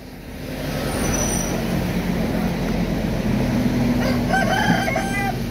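A free-range village rooster crows loudly near the end over a steady engine rumble from a vehicle.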